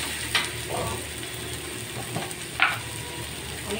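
Chopped spring onion being stirred into eggplant bharit in a pan, soft scraping and clinks of a spoon against the pan over a faint steady sizzle, close up with no voices.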